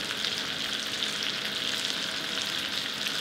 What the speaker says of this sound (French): Donc le beurre commence à fondre, on mélange un peu